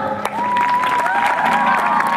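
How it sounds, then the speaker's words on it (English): A school crowd at a college band performance breaks into loud applause and cheering, dense clapping mixed with whoops and a rising shout, close and continuous. "Big applause."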